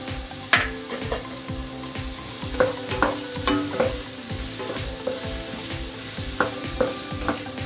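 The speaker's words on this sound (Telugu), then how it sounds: "కొంచెం ఫ్రై అవనిద్దాం." Green chillies fry in hot oil for a country-style chicken curry, a steady sizzle broken by repeated sharp scrapes and clinks of a spoon stirring the pan, close and continuous with no talk.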